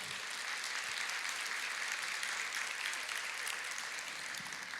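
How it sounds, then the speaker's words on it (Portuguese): A congregation at a worship service applauds in praise, producing continuous, even clapping that sounds somewhat distant and soft. "Vamos aplaudir ao Senhor."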